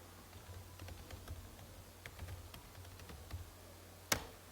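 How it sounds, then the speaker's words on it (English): Typing on a computer keyboard, a quiet, close series of light, irregular key clicks ending with one sharper tap. "now I show you how to type."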